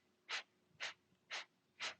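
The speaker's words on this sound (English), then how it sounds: "So it's a forceful exhale through the nose." Four rapid, forceful exhales through the nose during a breathing exercise, evenly spaced short bursts of breath, close and quiet, with no talking.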